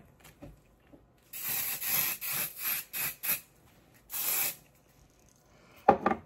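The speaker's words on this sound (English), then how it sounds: "all I normally do is the IGK spray" IGK hair spray is misted onto hair in a quick series of short, close hissing bursts, a longer spray closing the run, followed by a faint handling knock, with no talking.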